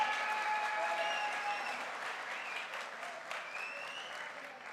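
Audience at a direct selling diamond promotion event claps rather weakly, a thin steady patter of applause with faint voices and whoops mixed in, gradually easing.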